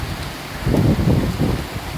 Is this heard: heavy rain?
yes